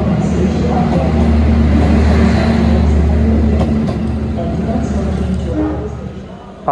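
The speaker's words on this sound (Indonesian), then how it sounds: "Kereta api Argo Sindoro sudah diberangkatkan dari stasiun Cirebon ya." Argo Sindoro passenger train pulling out of Cirebon station, a loud steady low rumble and rolling drone close by that eases slightly toward the end, with a voice talking over it.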